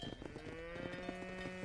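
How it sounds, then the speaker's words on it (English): Cattle mooing in the Red Dead Redemption video game, a short, loud, close low moo with steady tone under a faint background. "A bunch of cows."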